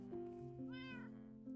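Faint video-game cat meows sound over a steady, sustained tonal background, with one drawn-out meow in the middle.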